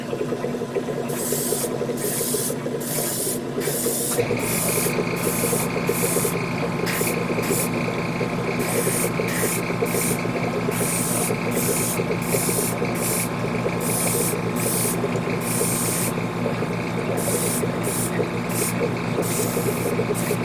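Spray paint hisses steadily over parts of a Hasegawa 1/72 Queadluun Rau model kit, a continuous close airy spray with a rhythm of short repeated bursts laid over it.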